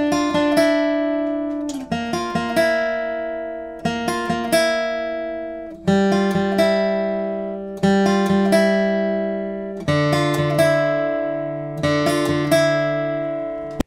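Guitar playing the intro of a song, with clean picked notes ringing out in repeating phrases of struck chords and arpeggios, steady and fairly loud, no voices.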